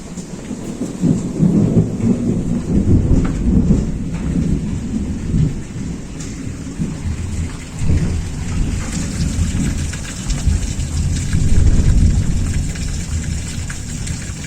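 Heavy rain pours steadily outdoors during a thunderstorm, with loud rolling thunder swelling and fading throughout, close and continuous with no talking.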